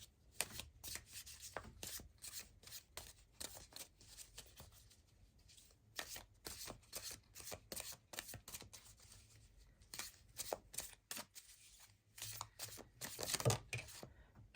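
Tarot cards are shuffled and drawn during a pick-a-card love reading, with quick bursts of riffling and soft slaps repeating close to the microphone at varied pace, fairly faint overall.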